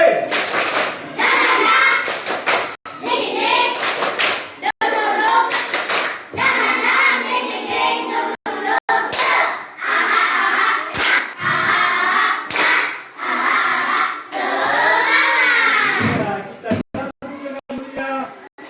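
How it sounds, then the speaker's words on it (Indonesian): Fifth-grade students in a classroom perform a rhythmic spirit clap, chanting together while sharp bursts of hand claps and thumps punctuate the patterned beat. The group voices stay loud and close throughout. "Tepuk semangat 3J."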